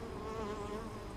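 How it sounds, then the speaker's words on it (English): Honeybees buzz steadily and close by during a hive inspection, a continuous dense hum holding level for a brief moment with no talking. "This isn't gonna end well for the bee on my pinky."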